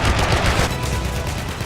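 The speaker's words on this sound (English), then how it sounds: "One screams past the Americans from above, firing its Mk-108 cannons through the line." Me-262 jet firing its Mk-108 cannons, a dense, loud burst of rapid gunfire that blurs into a continuous roar for under two seconds.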